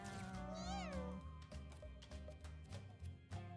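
A house cat meows once in a clear rising-falling cry, over a steady bed of background music and noise, with brief speech fragments afterward.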